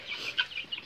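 Backyard hen with chicks clucking softly, several short, close clucks scattered over less than a second with no talk.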